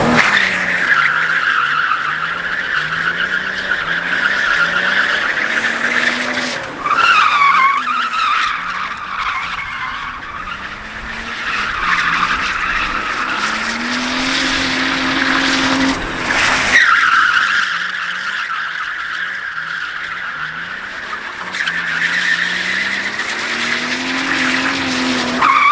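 A BMW E36 with a swapped five-speed gearbox drifts on a street, its engine revving hard in rising and falling pulls while tires squeal and skid in long loud stretches.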